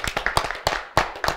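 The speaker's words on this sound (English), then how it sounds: "And give yourselves a clap." A small group from a dance class claps for themselves, a few loose, close hand claps in an uneven rhythm over about a second and a half.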